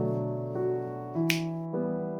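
A single crisp finger snap lands in the middle of a sustained musical backdrop, short and bright, with no talking.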